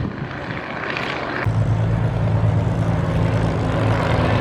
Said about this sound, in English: So it's a reconnaissance aircraft